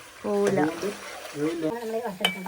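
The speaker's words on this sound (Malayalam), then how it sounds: "നന്നായിട്ട് ഫ്രൈ ആവുന്നുണ്ട് ഇവിടുന്ന്" Beef pieces fry in sunflower oil for beef pickle, a close sizzle with stirring scrapes from the pan, while a person talks over it throughout.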